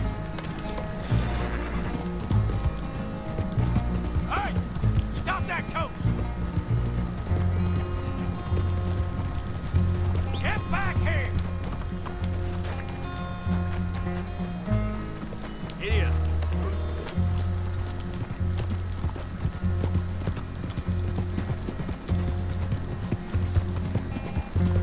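Galloping horse hooves in the Red Dead Redemption 2 video game, a rapid steady clip-clop with occasional mechanical clicks and tack rattles, loud and continuous over low background music.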